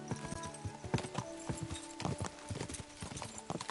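Horses galloping in a video game race toward a roadside chapel, rapid clip-clop hoofbeats driving steadily throughout with an occasional whinny, loud and close.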